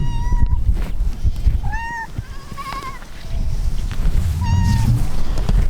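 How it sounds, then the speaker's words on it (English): A ranch cat meows several times close by on a Kiko goat farm in spring pasture, short rising cries spread across the stretch over steady outdoor rumble and rustling. "Here comes the ranch kitty."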